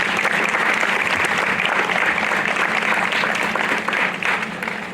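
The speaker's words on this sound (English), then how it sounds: "I want to give them another round of applause" Audience applause for a student council at a school 9/11 memorial ceremony, dense and loud clapping that holds steady, then tapers slightly near the end.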